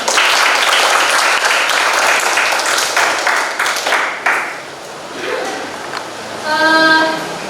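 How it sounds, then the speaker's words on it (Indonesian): A classroom of students applauding together, dense clapping that gradually thins out, followed by a few voices and a short bright ringing tone near the end. "Tepuk tangan untuk kita semua."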